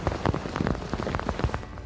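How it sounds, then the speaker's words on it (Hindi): Heavy rain falls in northern Japan, a dense, steady patter and splash on surfaces, loud and close, with no voices over it. "उत्तरी जापान में कल से भारी बारिश हो रही है।"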